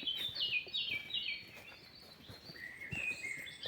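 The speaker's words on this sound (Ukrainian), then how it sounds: "От вам і ліс зараз послухайте, як співають птахи." Several birds chirp and trill continuously in a quiet spring forest in Artemisio, Italy, high thin calls overlapping at a moderate distance, with faint background patter.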